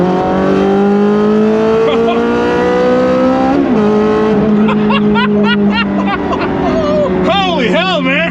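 A Ferrari engine revving with its exhaust valves open, a loud sustained roar whose pitch climbs and falls in repeated sweeps near the end, heard close with no talk over it.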